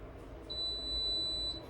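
An air fryer timer gives a single steady high-pitched electronic beep lasting about a second over a quiet kitchen background, with no talk.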